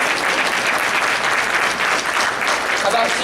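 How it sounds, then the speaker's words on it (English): An audience in a meeting room applauds supervisors, a loud, dense, continuous burst of clapping from many people held for about three seconds. "Let's give them a round of applause."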